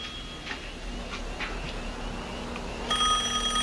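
A telephone rings near the end, its electronic trill cutting in sharply after a stretch of quiet room tone with faint ticking.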